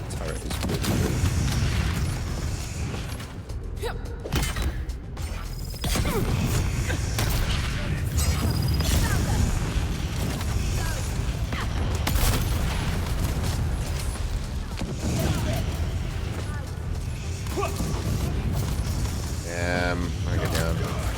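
Game turret firing in a chaotic battle, dense booming bursts and mechanical clatter rolling almost continuously under a speaking voice.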